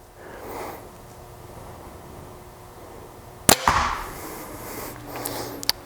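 A sharp snap and thwack as a compound bow releases an arrow, followed by a brief buzzing twang and a fainter knock moments later, with quiet surroundings.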